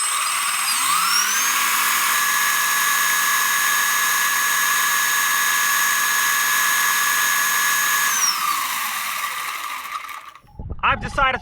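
Feiyue FY03H brushless RC truck motor on a 3S LiPo pack spins up to a steady high-pitched whine, holds it for several seconds, then winds down, followed by brief handling clatter.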